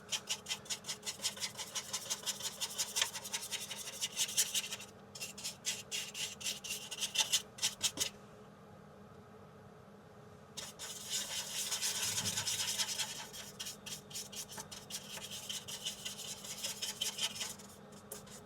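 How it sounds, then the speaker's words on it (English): Weathering pigment and fixer being worked and smeared over an RC car body, giving a steady close-up rubbing and scrubbing texture in bursts with brief pauses, with no talking. "If it starts to go a bit dry, just add a little bit of pigment fixer and just keep smearing it around."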